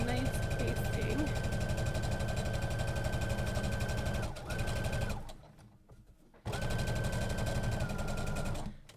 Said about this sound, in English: So I'm just gonna give it a nice basting.